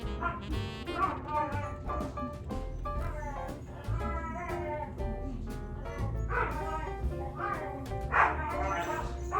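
A puppy yips and barks repeatedly in short, high bursts, close by, with whimpering tones mixed in.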